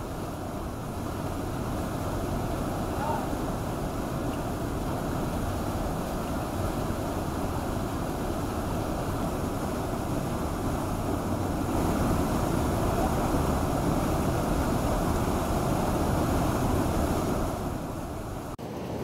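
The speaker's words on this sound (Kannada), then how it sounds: "ಕಲ್ಲತ್ತಗಿರಿ ಫಾಲ್ಸ್ ಕಳೆದ 2-3 ದಿನಗಳಿಂದ ಭಾರಿ ಪ್ರಮಾಣದಲ್ಲಿ ಸುರಿಯುತ್ತಿರುವಂತ ಮಳೆಯಿಂದಾಗಿ ಉಕ್ಕಿ ಹರಿತಾ ಇದೆ" Kallathagiri Falls in Chikkamagaluru, swollen and overflowing after days of heavy rain, sends up a steady, loud roar of rushing water that holds constant throughout, with no voices.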